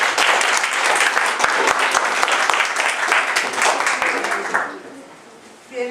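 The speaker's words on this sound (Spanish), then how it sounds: "Vamos a dar un fuerte aplauso." A crowd claps loudly and steadily for several seconds, then the applause fades out to quiet.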